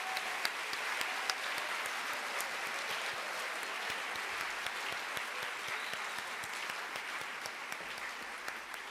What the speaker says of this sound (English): let's have applause for our 3 Excellence Award winners